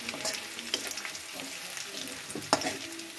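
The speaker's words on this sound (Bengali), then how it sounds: "রসুনটা ভাজা হয়ে গেছে" Garlic frying in oil in a pan, a continuous moderate sizzle with small crackles and one sharp pop, heard close with no voices.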